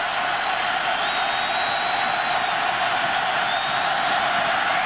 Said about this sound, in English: 3rd down and 20, and the crowd is into it